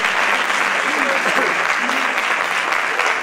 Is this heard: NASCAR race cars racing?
no